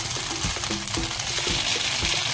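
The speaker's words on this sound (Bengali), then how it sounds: "তো চিকেনটা নেড়ে ছেড়ে দিয়ে এই যে এরকম ফ্রাই হবে।" Chicken sizzling in a pan for palak butter chicken, a steady frying hiss with soft scraping and clinking as the pieces are stirred, close and continuous.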